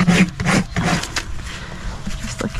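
A rasp files and bevels a horse's hoof during trimming, giving several rough back-and-forth scraping strokes that are loudest at the start and then soften, fairly close with no talk over them.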